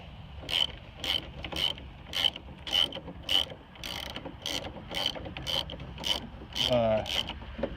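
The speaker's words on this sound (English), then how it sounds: "So now I'll be able to go ahead and pop this bolt out." A ratchet turns a bolt out of a 2003-2007 Chevrolet Silverado window regulator, giving a series of sharp, evenly spaced clicks close up, about a dozen in a row, ending with a brief scrape.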